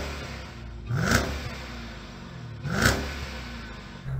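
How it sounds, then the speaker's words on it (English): Jeep Grand Cherokee Trackhawk SUV engine blipped twice, each rev a short rising roar over a steady idle rumble, about two seconds apart. "Let's have a listen to the Jeep."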